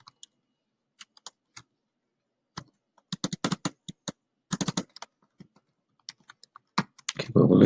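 Someone types on a computer keyboard at close range, sparse single keystrokes first, then quick clustered bursts of clicking with pauses between, ending in a louder clatter.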